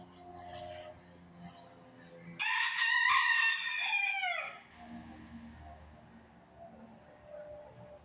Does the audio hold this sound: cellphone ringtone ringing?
no